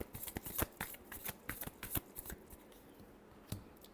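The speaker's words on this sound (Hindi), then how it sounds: "Last shuffle." Tarot cards being shuffled, a quiet close sequence of soft flicks and slaps that thins out toward the end with one last tap, and no talking.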